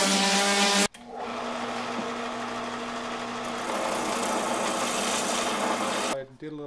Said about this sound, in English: I did a little sanding.